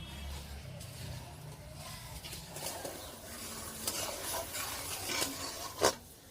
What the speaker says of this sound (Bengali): এরকম নাড়তে হবে